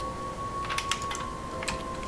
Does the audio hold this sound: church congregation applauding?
no